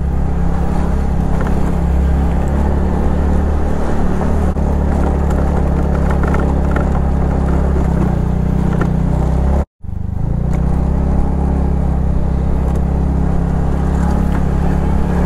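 A KTM Adventure motorcycle engine drones loud and steady from the rider's position while passing a tractor on the road, with wind roar throughout, a slight pitch rise near the middle and a brief dropout.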